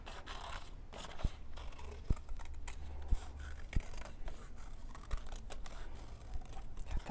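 Scissors snip through a scrap of paper to cut out an oval sheep head for a zip-lock sheep craft, giving sharp, irregular close-up cuts and rustles at a quiet level.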